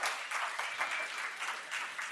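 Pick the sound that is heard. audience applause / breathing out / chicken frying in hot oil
audience applause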